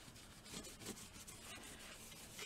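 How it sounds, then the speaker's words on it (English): Wax is rubbed over a decoupage napkin on a small mixed-media bird plaque, giving faint, soft scuffing strokes in a quick irregular rhythm, close and quiet with no speech. "I'm just going to rub over some of the wax again to match this one."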